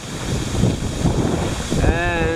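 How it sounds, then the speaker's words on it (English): Strong wind at a lake buffeting the microphone in loud, gusty low-frequency rushes, with a brief tonal whine near the end. "super windy today."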